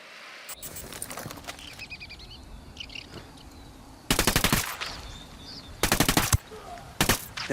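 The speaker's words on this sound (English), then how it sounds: "I got a target carrying submachine guns." Submachine guns fire in Ghost Recon Wildlands: three short, loud rapid bursts break over a quiet outdoor backdrop where faint bird chirps can be heard.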